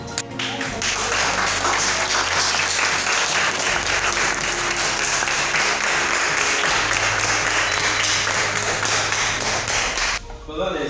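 Dense, sustained applause from an audience honoring graduates at a launch event in Abomey, loud and steady for about ten seconds with a low hum beneath, then tapering at the end.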